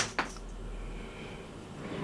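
A workshop drawer full of tools slides open with a short wooden scrape and knock near the start, then a steady low room hum continues.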